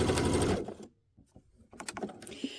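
Sewing machine stitching quilt fabric folded over yarn for a quilt block pillow, a dense rapid mechanical whir for the first stretch, then stopping, followed by light handling noises and small clicks.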